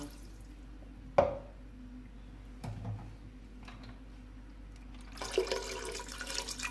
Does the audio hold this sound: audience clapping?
no